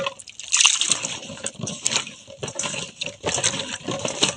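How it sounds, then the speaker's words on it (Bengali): Raw jujube fruits (boroi) being washed by hand in water, with splashing, sloshing and dripping close by, continuous and irregular, no speech. "এবার আমরা বড়ইগুলা ধুয়ে নেব ভালো করে।"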